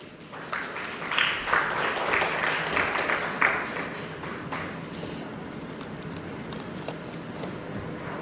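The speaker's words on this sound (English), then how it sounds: "May I have a round of applause, please?" A conference audience claps in a scattered round of applause that is moderately loud at first and then thins to a quieter patter, heard from some distance in a large hall.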